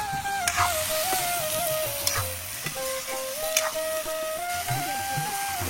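Pieces of fried catla fish are added to a pan of chopped bottle gourd, setting off a steady, close sizzle with soft stirring clinks and scrapes, alongside a faint wavering background tone.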